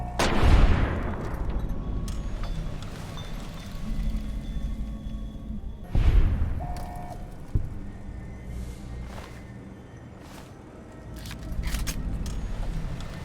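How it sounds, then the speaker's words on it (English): Gunshots in a video game, a few heavy booming shots spaced seconds apart over a low rumbling game background, fairly close and moderately loud. "I think it's only right to shoot him with the gun that started my journey"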